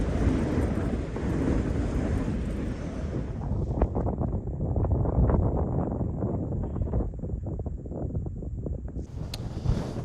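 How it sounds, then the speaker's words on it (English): Strong wind of about 40 mph roars steadily and buffets the microphone in gusts at an overnight wild camp, with rain, loud and continuous throughout. "it's still very windy. It's been windy all night."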